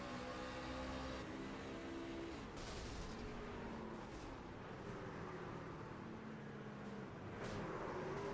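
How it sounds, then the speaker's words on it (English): A loud race truck engine roars and over-revs sharply after a missed shift at Homestead-Miami Speedway, rising in pitch under constant crowd and track noise, with no voices. "listen to the revs go through the roof here"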